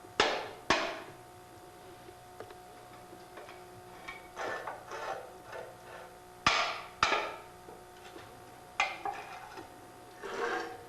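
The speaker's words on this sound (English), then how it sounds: "I just take this handy screwdriver here and puncture a hole in the top." A screwdriver is driven into the top of an oil filter during an oil change, giving several sharp metallic knocks and taps spaced irregularly, close and fairly loud.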